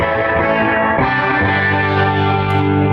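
Electric guitar chords ring out clean through a tube amplifier and 4x12 cabinet, sustained and full, played alone at a steady volume.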